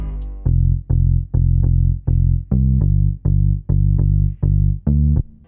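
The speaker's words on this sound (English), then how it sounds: "the bass sounds a bit something like this" A deep synth bass, not an 808, plays a steady rhythmic pattern of sustained, punchy notes with short gaps between them, loud and alone, in FL Studio.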